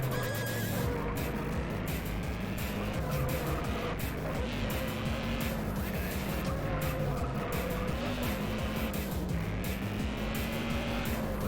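Tires squealing and skidding as a car in the Juiced racing video game pushes its grip limits through corners, a sustained, loud screech over steady engine drone with no pauses.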